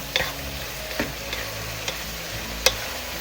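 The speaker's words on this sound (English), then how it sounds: "Pork tenderloins are easy to cook, folks. Doesn't take that long, but you wanna saute them real good" Pork tenderloin sautés in a pan for Filipino batchoy, a pork and offal soup, giving a soft steady sizzle with a few sharp clicks of utensils against the pan.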